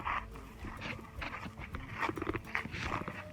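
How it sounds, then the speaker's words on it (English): A pet dog pants near a beach at Quoddy Head State Park in Lubec, Maine, with quick breathy huffs and faint whimpers close to the listener over rough outdoor background noise. "For this video, this is our dog."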